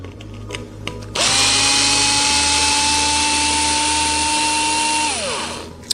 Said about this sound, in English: Let's remove the other 2 screws from the transmission mount.